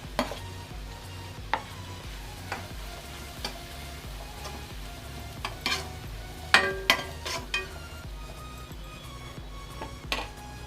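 Capsicum fries in a pan for egg masala curry with a low, steady sizzle. A spatula stirs it with irregular scrapes and knocks, which gather into a cluster of taps midway, with no talking.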